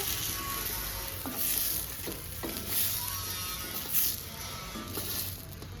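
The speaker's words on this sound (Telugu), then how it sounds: "మంచిగా ఫ్రై చేసుకోవాలి చూడండి బాగా ఫ్రై అయింది" Mint leaves frying in a pan for chutney give a steady, moderately loud sizzle, with faint stirring scrapes now and then and no talking.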